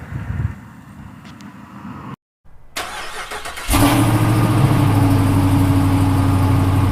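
A 1950 car's engine, quiet and muffled at first, cuts out briefly, then catches and settles into a loud, steady, close-up running drone with a low hum.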